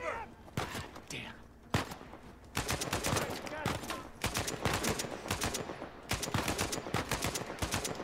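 Rapid bursts of gunfire in the Uncharted 4 video game, clustered sharp shots in quick rhythmic runs through most of the stretch, with a voice speaking over parts of it.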